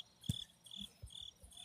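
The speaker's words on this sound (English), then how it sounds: "Is that crickets?" Crickets chirp in short repeating high-pitched bursts at an even rhythm, with a few low thumps in between, fairly faint and without speech.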